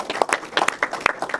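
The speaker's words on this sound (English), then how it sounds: "Please give him a round of applause" A short burst of audience applause greets a special guest arriving at a panel discussion, many hands clapping in a steady patter close by with no talking over it.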